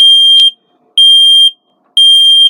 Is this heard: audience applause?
no